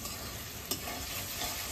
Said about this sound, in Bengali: মাছের তেল দিয়ে কত সুন্দর ভাজাটা হয়েছে, একবারে লাল করে ভেজে নিচ্ছি।